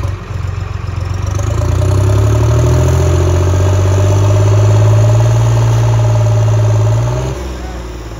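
A Farmtrac 60 tractor engine runs close by with a steady, low, droning hum that swells over the first couple of seconds, holds evenly, then drops away near the end.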